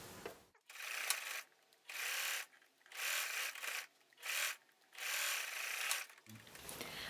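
A sewing machine stitching along the bottom of a fabric face mask, running in about five separate bursts of steady mechanical whirring with short pauses between them, loud and close.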